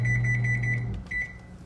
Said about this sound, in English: Timer is set.